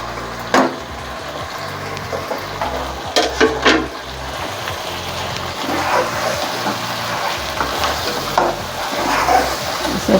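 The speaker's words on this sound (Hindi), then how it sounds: "इसे अच्छी तरह से मिक्स कर लें।" Chicken with ground chili, coriander, garam masala, cumin and turmeric is stirred in a pan, a steady low sizzle broken by scraping knocks of the spoon against the metal, close and loud.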